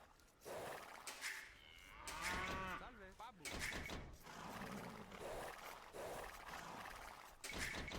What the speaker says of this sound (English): Probably we have some cows in the surroundings.